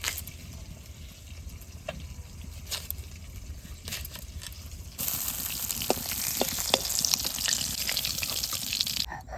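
Fish frying in hot oil in a home kitchen: a steady sizzle that turns louder and fuller about halfway through, with scattered crackles and pops, then cuts off abruptly near the end.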